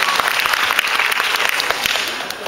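A concert audience at a Park Hyo Shin show gives loud, dense applause that stays steady, with no talking over it.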